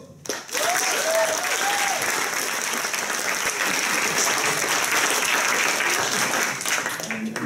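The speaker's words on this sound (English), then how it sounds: "Welcome with a very warm applause," Warm audience applause welcoming a speaker onto the stage at a slam talk event, dense many-handed clapping swelling in after a brief voice and holding loud and steady for several seconds.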